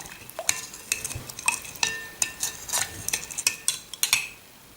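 Spoon stirring sugar and vanilla in a bowl to dissolve them for a no-egg Iraqi yeast-roll dough, giving repeated clinking scrapes against the bowl in a steady rhythm, close and alone.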